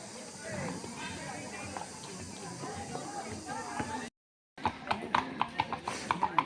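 Tired horses that carry riders walk slowly on a rainy outing spot. Their hoof clip-clops come as a steady run of soft knocks, then a brief gap, then sharper, louder knocks spaced close together.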